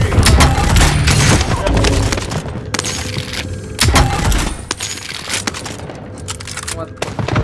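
Video game combat with an RPG blast and heavy gunfire, loud booms and crackling shots layered over dense battle noise, with a voice speaking throughout.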